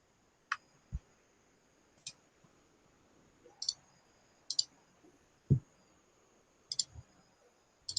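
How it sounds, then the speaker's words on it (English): Several sharp, quiet computer mouse clicks spaced irregularly across a quiet room, used for deleting a Group Policy Object in Windows, with no talking. "right click on the GPO and select delete"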